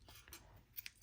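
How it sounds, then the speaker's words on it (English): Scissors snip crochet yarn in a few quick, close cuts, short crisp clicks spaced across a brief moment with near silence between them. "give it a little snip."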